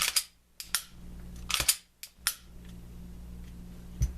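Glock pistol trigger being pulled and reset, a handful of sharp, close mechanical clicks spaced irregularly, some in quick pairs, against a low steady hum.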